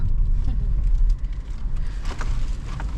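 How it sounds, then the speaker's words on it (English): A 2026 Volkswagen Taigun GT Line with an 8-speed automatic, driven gently through city traffic. Inside the cabin there is a steady, loud low-frequency road and engine rumble with a faint airy hiss above it. "So I'm just going to drive with very light foot for like 5-6 kilometers."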